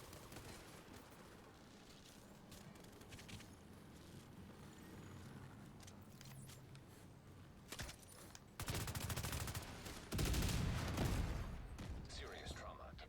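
Gunfire in The Division 2 during conflict PvP: scattered shots sit under background sound and game talk early on, then heavy bursts of rapid fire break out loudly toward the end.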